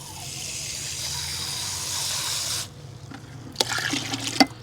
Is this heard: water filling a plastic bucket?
yes